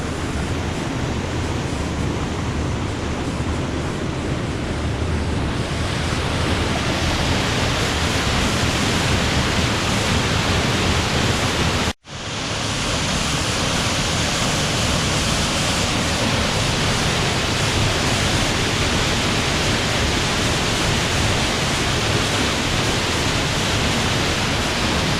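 Artlish River on Vancouver Island rushes steadily in a dense, broadband roar of moving water, loud and close, unbroken for the whole stretch apart from one brief cut near the middle.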